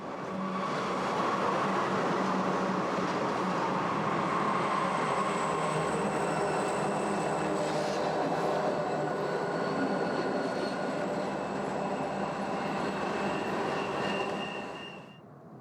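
A heavy tonnage freight train rolls along single track on Colorado's Joint Line, a continuous loud roar of wheels with high squealing tones, fading out at the end.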